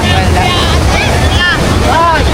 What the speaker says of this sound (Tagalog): Waiting for the waves to come.